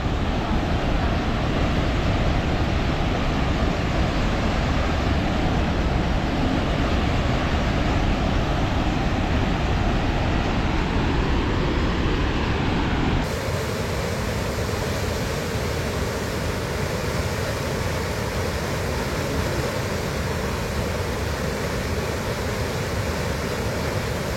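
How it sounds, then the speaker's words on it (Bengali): Water roars steadily out of the lock gates of Panchet Dam, a dense, continuous rushing wash that holds loud and unbroken throughout with no voices over it. "মানে লক গেট থেকে জল ছাড়ছে"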